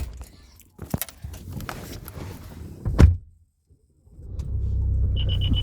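People climb into a car during a thunderstorm: shuffling steps and rustling, a sharp loud door slam around the middle, then a brief silence before the engine rumbles on steadily and a chime beeps.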